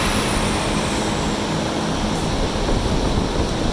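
Twin-turbo C8 Corvette with an oversized throttle body, running on a dyno at about 5.5 pounds of boost; a loud, steady engine roar with a high whine fills the whole stretch without pause.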